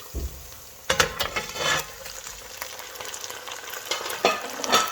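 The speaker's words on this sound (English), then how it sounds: "Now simply all you gotta do is add the beef in" Beef drops into a braising pan of onions and reduced red wine, setting off a sudden burst of sizzling and clattering that settles into a steady fry with intermittent stirring scrapes.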